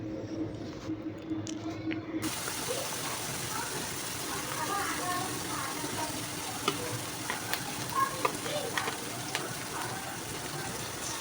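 Spices sizzling and being stirred in hot oil with salt and turmeric for bhuna khichuri, a soft steady frying hiss with scraping stirs and small pops, joined after a moment by louder broadband sizzle.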